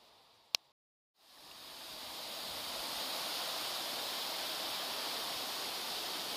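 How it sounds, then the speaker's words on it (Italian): A waterfall at Valgatun, spilling over a travertine deposit on a mountain trail, roars as a steady broadband rush that swells in after a brief sharp click and near-silence, then holds constant and fairly close. "sono alla cascata di Valgatun"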